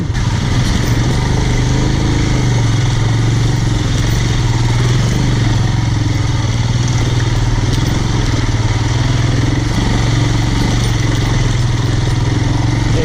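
Steady, loud engine drone and clatter from a Royal Enfield Himalayan motorcycle on the move, close and unbroken, with rushing wind noise layered over the low rumble.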